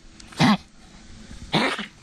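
A small female dog coughs twice in quick, harsh bursts about a second apart, close by, with quiet room noise between them.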